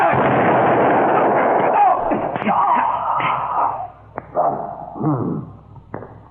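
Gunshots in a 1950s Australian crime drama, heard as a loud burst followed by a few sharp cracks under shouting voices.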